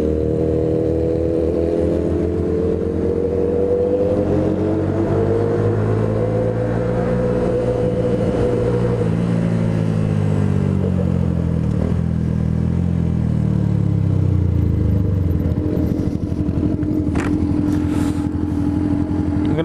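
A BMW HP4 superbike fitted with a carbon full GP exhaust is revved in a city centre, its engine rising and falling through repeated throttle blips, loud and close.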